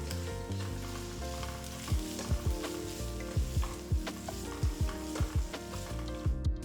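Finely chopped onion sizzles steadily in a hot pan, with repeated scraping strokes of a spatula stirring it at an uneven rhythm, up close.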